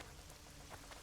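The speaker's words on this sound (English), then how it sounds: "Oh, now it's raining." Game rain in The Witcher 2: a dense, steady hiss of falling rain with soft low rumbling beneath, unbroken and moderately loud for a brief moment.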